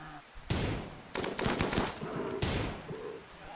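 Gunfire in the video game RimWorld: several loud bursts of rapid shots in quick succession, with short gaps between them, close and sharp over a quiet background.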